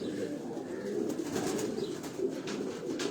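Pigeons kept on a Karachi rooftop loft coo in a steady, overlapping murmur that runs throughout, with faint chirps above the low cooing.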